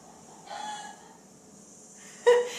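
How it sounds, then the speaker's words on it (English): A hen clucks after laying an egg, two bursts of loud nearby squawking separated by a short pause, the second sharper and stronger. "That's the chicken just laying an egg."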